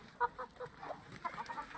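Farm chickens cluck in short, close bursts, several soft calls in quick succession at a modest level with no talking.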